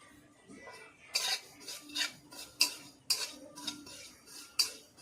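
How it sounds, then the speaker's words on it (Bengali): Poppy seeds being stirred in a wok, heard as a series of sharp metallic scrapes and clinks from a utensil against the pan, about seven or eight strokes spaced across a quiet background. "এবার কড়াইয়ের মধ্যে দু চামচ পোস্ত দিয়ে দিচ্ছি"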